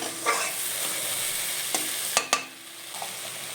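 Boiled taro flowers are stirred and mashed in a hot pan, a continuous low sizzle broken by a few sharp scraping clacks of a spatula against the pan, close up, with no voices.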